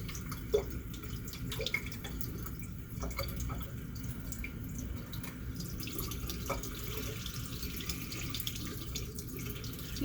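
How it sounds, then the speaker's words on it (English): A faucet running into a sink at a clinical handwashing station, a steady, moderately loud splashing stream with a few sharper drips and clinks, continuous for ten seconds without speech. "Then I'm going to turn on my faucet."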